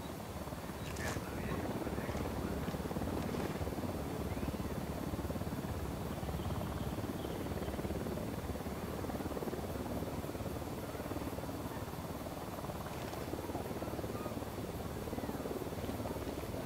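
Helicopter approaching in the video game Ghost Recon Wildlands, a steady, dense rotor rumble that holds loud and unbroken throughout, with faint higher game sounds flickering above it.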